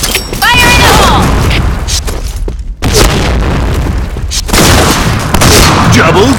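Grenade blasts in the shooter game PointBlank, loud booming explosions and clattering gunfire that fill the mix, with a short silent gap and game voice announcements over the top.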